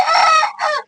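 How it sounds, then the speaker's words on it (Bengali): A chicken gives a short, loud, close-up call in two quick bursts, with a brief gap between them and no talking. "আর এখানে একটা আলাদা মুরগির বাচ্চা রাখা হয়েছে,"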